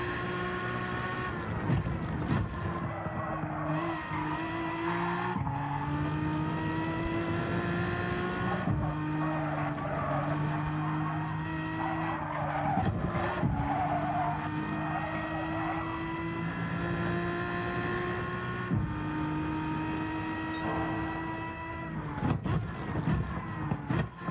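Race car in Gran Turismo 7, its engine droning steadily through repeated gear shifts and rising revs, with bursts of tire squeal and skidding scattered across a long continuous run, close and loud, no talking.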